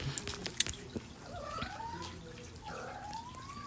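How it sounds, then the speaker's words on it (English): Cats squabbling somewhere in a home during a craft session, with a few sharp yowls early on and then drawn-out, wavering caterwauls rising and falling at moderate distance, without speech. "Girls, stop fighting. Cats are at it."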